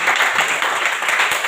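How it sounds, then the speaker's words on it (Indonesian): Brief burst of clapping from schoolchildren in a primary classroom, a dense, fairly loud patter of small hands applauding a student group, lasting only a moment with no speech over it. "tepuk tangan untuk kelompok 1"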